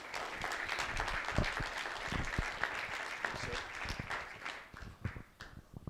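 Audience applause at a high school student of the month breakfast, a crowd clapping steadily at moderate distance, fading out toward the end with some voices mixed in.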